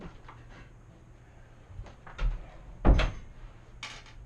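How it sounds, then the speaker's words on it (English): A door swings shut during indoor work on mounting a light, a single solid thud landing near the end after a few softer shuffles and knocks, fairly close in an otherwise quiet room. "close the door"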